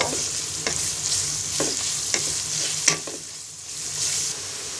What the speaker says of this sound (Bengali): পেঁয়াজটাকে ব্রাউন কালার করে ভেজে নিব